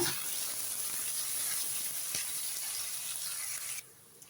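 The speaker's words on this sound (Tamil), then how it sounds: "இப்போ வெங்காயம் நல்லா பொன்னிறமாக ஆகட்டும், அந்தளவுக்கு வதக்கி எடுத்துக்கோங்க" Sliced onions for prawn biryani fry in oil with a soft, even sizzle and hiss that stays steady before cutting off near the end.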